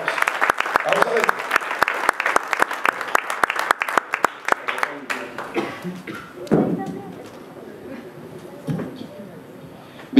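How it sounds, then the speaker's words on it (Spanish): A church congregation at an anniversary service claps in a burst of sharp, scattered applause that fades after a few seconds, leaving murmuring voices and light thumps. "Fuertes aplausos."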